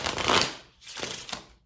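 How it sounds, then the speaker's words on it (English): A deck of tarot-style reading cards is shuffled by hand, two or three quick riffling bursts, close and crisp, with a brief pause between them and no talking. "3 shuffles for Sagittarius rising."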